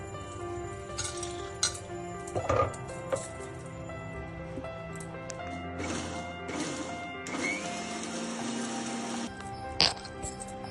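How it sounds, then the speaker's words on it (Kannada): A mixer grinder churns soaked rava and beaten rice in short bursts, with rattling clatter and a sustained whirring run near the end, close by in a kitchen. "ಈಗ ಈ ಕಳೆಪುರಿ ಆಮೇಲೆ ನೆನೆಸಿದ ರವೆ 2 ಸೇರಿಸಿ ರುಬ್ಬಬೇಕೀಗ"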